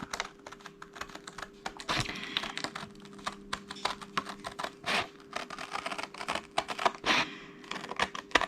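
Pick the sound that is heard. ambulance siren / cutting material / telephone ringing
cutting material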